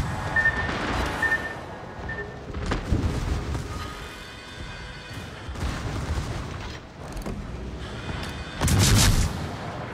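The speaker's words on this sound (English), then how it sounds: "Torpedoes direct front. Fire." Explosive booms and gunfire rumble through a naval battle video game as torpedoes are fired at an enemy destroyer, with a sustained din of battle and a loud blast near the end.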